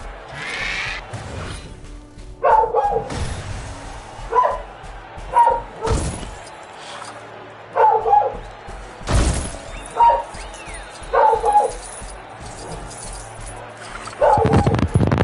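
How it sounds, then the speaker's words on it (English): A pet dog barks in short bursts somewhere in the background of a room, about a dozen sharp barks spaced a second or so apart, mixed with other faint sounds. "that in the background, that's my dog shouting."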